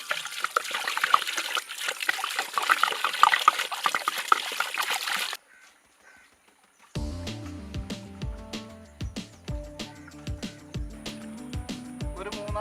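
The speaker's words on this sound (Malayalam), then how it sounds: "നാല് വട്ടം നമുക്ക് ഇതുപോലെ വെള്ളം ഒഴിച്ചിങ്ങനെ കഴുകി അങ്ങ് എടുക്കണം" Water pours and splashes steadily over duck meat being washed for several seconds, then stops briefly before background music with a steady beat takes over.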